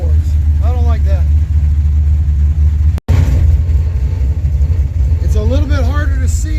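A project car's engine idles on a hot day, a steady low rumble running beneath a person talking, with a brief dropout midway.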